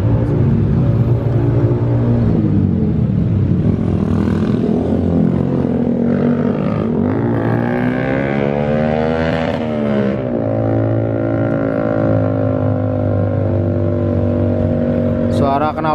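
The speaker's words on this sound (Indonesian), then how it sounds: "Suara knalpot yang sangat mengganggu." A loud vehicle exhaust revs nearby on a street where a delman horse cart waits, the engine note rising and falling in sustained roaring sweeps that dominate the scene for the whole stretch.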